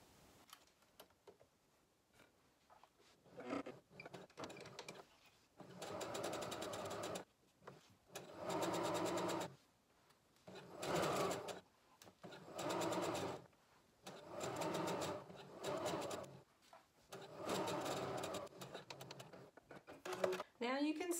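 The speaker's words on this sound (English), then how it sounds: "I'm gonna stitch around all the way to this other point" A sewing machine stitches around the edge of an infinity scarf in repeated bursts of a few seconds each, separated by short pauses, fairly close and steady.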